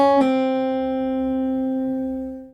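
A single plucked guitar note from a song melody rings out clearly and decays slowly, close and alone with no talking.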